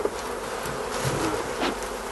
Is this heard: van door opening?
no